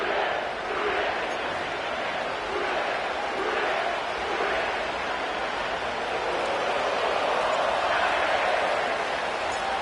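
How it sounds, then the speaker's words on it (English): Sellout stadium crowd at Paycor Stadium in Cincinnati in an EA Sports football video game before the AFC championship, a steady, dense roar of massed voices running unbroken throughout. "sellout crowd has arrived at Paycor Stadium in Cincinnati"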